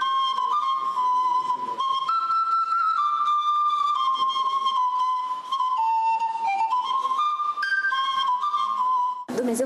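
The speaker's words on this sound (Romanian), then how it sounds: "el chiar cântă opere la fluier" A breathy wooden shepherd's flute plays a continuous, ornamented melody, loud and close, with a sudden break at the very end.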